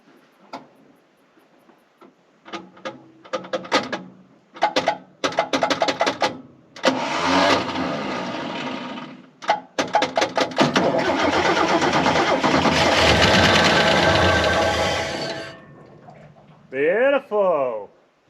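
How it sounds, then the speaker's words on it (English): A HEMI-powered car engine cranks in a rapid series of loud starter bursts with pauses between, then catches and runs in a sustained loud roar before cutting off, with people talking around it. "Let's see if it cranks."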